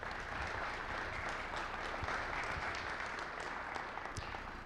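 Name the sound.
applause for the presenters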